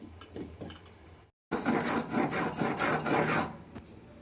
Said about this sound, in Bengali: মশলাটা একদম মিহি করে বেটে নিলাম